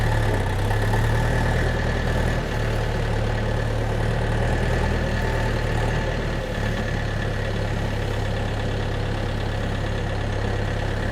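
A DTZ 5404 tractor engine idles steadily in neutral, a loud, constant low diesel rumble running unbroken throughout with no speech.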